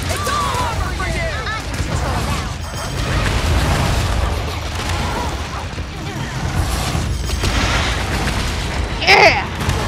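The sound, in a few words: bomb explosion in Monster Hunter Rise video game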